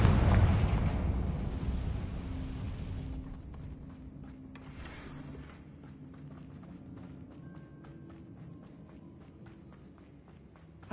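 A Confringo fire spell explosion in the video game Hogwarts Legacy, a loud, close blast that opens the sound and then rumbles and fades slowly over several seconds, with lighter game effects and faint steps beneath.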